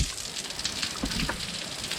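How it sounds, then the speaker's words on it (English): Heavy rain pours steadily in North Carolina, a dense, constant hiss of water close by with no pauses or voices. "Guys, it is literally pouring right now."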